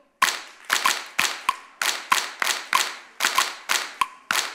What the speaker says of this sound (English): Clap, clap, clap, clap, clap, clap, clap, clap